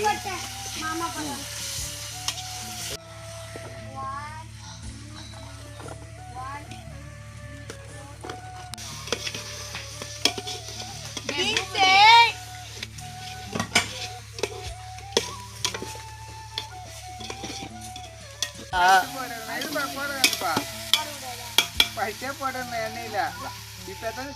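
Onions sizzle and fry in a pot for a village-style biryani, with intermittent stirring and scraping clatter, while people talk over the cooking throughout.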